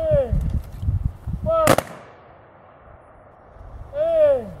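Rifle volley at a 2023 Memorial Day veterans' cemetery service: a single sharp crack of the volley between shouted commands, followed by quieter outdoor ambience and another shouted command.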